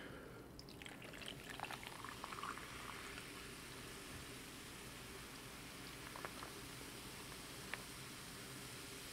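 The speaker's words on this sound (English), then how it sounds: "I got some fresca. Let me go ahead and pour that into the glass here." Fresca soda poured into a glass, a quiet steady fizzing and liquid hiss with a few faint clinks, close and soft, with no talking.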